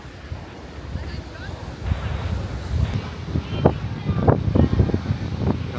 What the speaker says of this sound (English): Bye bye, beach.